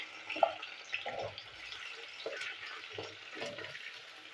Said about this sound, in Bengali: তো কচুটা আমি ভেজে নিচ্ছি।